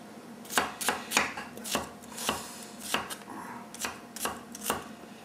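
A kitchen knife slices through asparagus spears on a cutting board, about a dozen crisp, evenly spaced chops heard up close with no talking.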